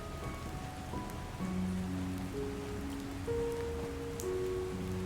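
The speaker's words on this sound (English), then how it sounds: "Why did you rush out of your home in the middle of the night when it's raining outside?" Steady rain falls outside at night, a continuous hiss and patter under soft sustained musical tones, evenly loud throughout with no voices.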